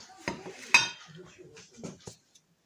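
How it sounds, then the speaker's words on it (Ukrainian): A few sharp knife taps and slices through a cucumber on a cutting board, cutting strips for sushi, irregular and close, with light kitchen clatter. "Так, нарізаю огірок"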